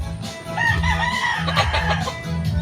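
A Kanaway Henny Blues rooster crows close by, a loud, wavering call rising and falling over a couple of seconds, with other fowl clucking and calling in the background.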